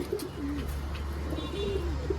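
Pet pigeons coo softly nearby in a few short, low, throaty calls over a steady background hum, with faint chirps mixed in and no voices.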